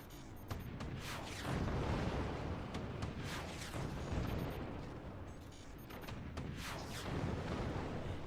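Howitzer artillery in a strategy match, repeated heavy booms and rumbling impacts rolling one after another over a dense, noisy battle din.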